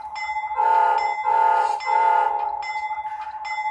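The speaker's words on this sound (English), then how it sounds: "Now notice, I honked the horn 3 times" Rapido HO scale C36-7 Norfolk Southern model locomotive horn sounding three loud chime blasts in a row over a rhythmic chugging of the running model.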